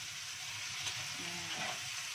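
Egg sizzles quietly in a pan as it is poured in and stirred, a soft steady frying hiss with faint scraping and no talk.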